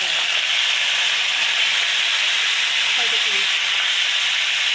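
Cut mango pieces fry in hot oil with panch phoron and a chilli, a steady close sizzle and hiss running throughout, with a faint voice briefly underneath.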